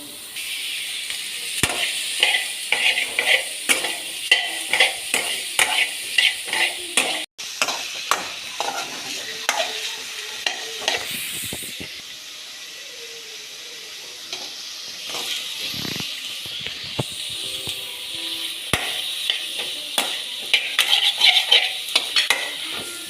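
Sliced onions sautéing with rock salt in a pan: a steady sizzle runs under repeated scraping and clinking of a spoon stirring against the metal, loud and close.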